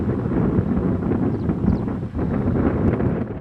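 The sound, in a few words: wind blowing outdoors on the Jutland coast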